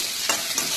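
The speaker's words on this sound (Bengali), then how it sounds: "এখানটায় পেঁয়াজ ভাজা করছি" Onions fry in a pan, giving a close, steady hissing sizzle with two brief bursts of louder crackle from stirring, and no talking.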